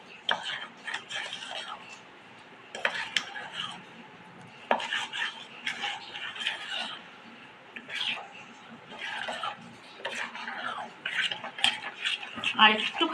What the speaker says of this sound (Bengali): খুব সুন্দর করে নাড়াতে হবে যাতে কোনো দলা দলা ভাব না থাকে, পুরোটা ভালোভাবে মিলেমিশে যায়।